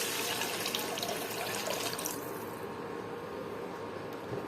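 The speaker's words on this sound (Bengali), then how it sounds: "পরিমাণ মতো পানি দিয়ে দিলাম।" Water pours into a pan of potatoes frying with chili and turmeric for a rui fish and lentil-dumpling curry, a loud, steady rushing splash for about two seconds that then eases into a quieter simmering hiss.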